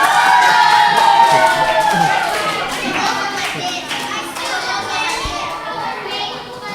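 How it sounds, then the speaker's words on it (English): Children in a classroom applauding a classmate named Kieran, a lively burst of clapping mixed with excited kids' voices and chatter that gradually fades over several seconds. "Let's give Kieran a round of applause."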